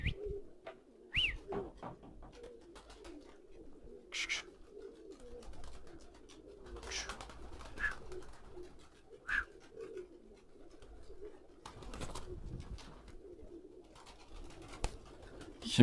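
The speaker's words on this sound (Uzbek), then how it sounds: "Kimga qanaqa kaptar kerakmi tanlab olaverasizlar." Pigeons cooing in a loft or pen, soft low repeated coos close by with occasional wing flutters and chirps, fairly quiet overall.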